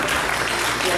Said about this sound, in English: Everybody give Don a round of applause.